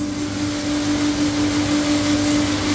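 Pneumatic grain crusher working on oats in a small feed mill line with a long hose, giving a loud, steady mechanical roar with a constant whine and no breaks.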